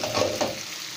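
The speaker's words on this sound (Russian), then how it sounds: "И будем жарить на вологодской сковороде" Sizzling and frying in a Vologda-style pan, potatoes with marinated pork, with a couple of stirring scrapes near the start, loud and close, no voices.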